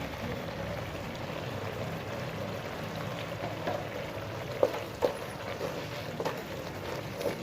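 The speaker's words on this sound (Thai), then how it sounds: "เดี๋ยวจะผัดนี้ไปเรื่อยให้จน น้ำเขาแห้งเลยนะครับ" Spicy beef curry paste stir-fried in a pan with no vegetables, giving a steady close sizzle with a few sharp clinks and taps from the utensil partway through.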